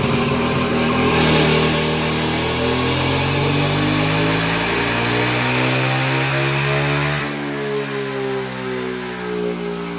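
A land speed racing motorcycle engine revs hard through a pull, its loud, sustained roar climbing and settling in pitch, then easing slightly toward the end, with no voices over it.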